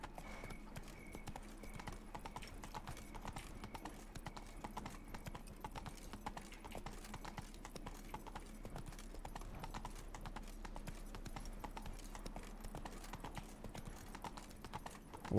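Horse hooves clip-clop steadily on the ground throughout, ridden through the Blood and Wine expansion of The Witcher 3 video game, with a continuous rhythmic patter at an even, moderate level.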